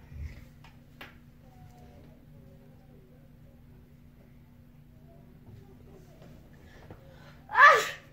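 A single sharp sneeze bursts out near the end after a quiet indoor stretch with faint room noise.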